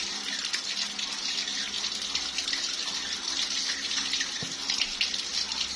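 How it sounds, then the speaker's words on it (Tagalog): Tap water runs in a steady, hissing stream throughout hand washing with antiseptic, a continuous close wash of sound with no talking. "Let us begin the hand washing."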